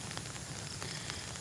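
Rain falls on a pineapple farm as a soft, steady hiss of drops, close and unbroken for a brief moment, without anyone speaking.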